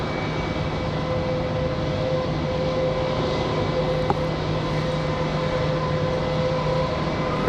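A Delta airliner takes off from runway 5 left at Raleigh-Durham International Airport, a continuous, steady jet roar with a faint whine, fairly loud and unbroken throughout, with no voices.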